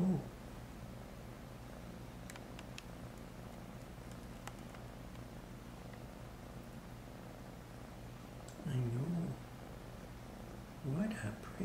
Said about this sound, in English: What a pretty kitty.